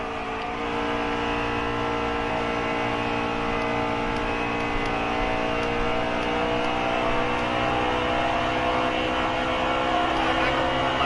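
Cup Series race cars at Homestead on a long green flag run, a continuous loud roar of engines with steady droning tones, no breaks, and a voice faintly underneath.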